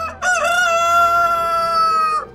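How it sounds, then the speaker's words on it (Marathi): A rooster crows once near a village edge, a loud, drawn-out cock-a-doodle-doo with rich harmonics that rises, holds steady for about two seconds and then cuts off, heard alone without other sounds. "कोंबड्यांचा आवाज येऊ लागला"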